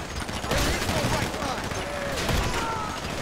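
Rapid gunfire bursts in the video game GTA Online during a heist shootout, dense crackling shots layered with game noise, while players talk over the action.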